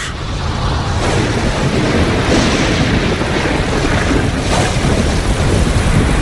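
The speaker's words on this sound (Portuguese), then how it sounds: "Por milhões de anos, enquanto o planeta esfria, a chuva cai, formando poças, lagos e, eventualmente, os nossos oceanos." Heavy rain pours in a dense, continuous hiss with a low rumble of thunder beneath, loud and unbroken throughout, with no voices.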